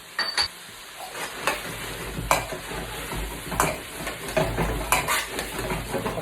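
Chicken karahi masala fries in a wok with a continuous close sizzle, while a metal spoon stirs and scrapes against the pan in irregular clinks and bumps, with no talking.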